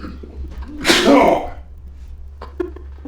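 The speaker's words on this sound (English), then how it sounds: "Did you just sneeze?" A single loud, close sneeze bursts out about a second in, followed by a short spoken exclamation and quiet room tone with a low steady hum.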